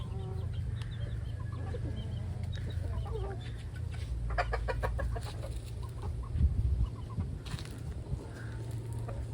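A fighting rooster clucks in short, intermittent bursts on a farm, fairly close, with a low steady background hum and no talking.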